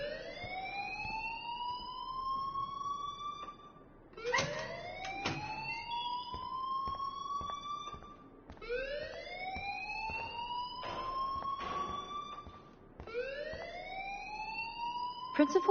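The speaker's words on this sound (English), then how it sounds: "please turn off that alarm since that's your job" An alarm rings in the video game Life is Strange, a loud, rising electronic siren wail that sweeps upward and repeats about four times, with clanging bell hits and voices speaking underneath.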